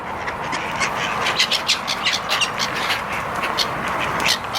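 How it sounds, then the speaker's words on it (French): A crowd of hungry seagulls being fed bread calls over a busy outdoor background, repeated short squawks and cries overlapping at close to middle distance. "Mais il y a trop de mouettes qui sont pas gentilles, les mouettes."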